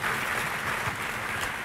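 Church congregation applauding at a Sunday service, a steady wash of clapping from many hands with no voices over it.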